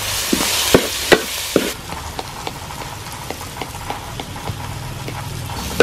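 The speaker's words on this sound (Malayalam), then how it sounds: "ഇഞ്ചി വെള്ളുള്ളി ഇട്ടിട്ട് ഒന്നുകൂടി നന്നായി ഇറക്കി കൊടുക്കാം" Onion, ginger and garlic sauté in a pan for Kerala-style crab curry, a steady frying crackle broken by sharp clicks and taps of a spoon, which start louder and then settle into a quieter sizzle.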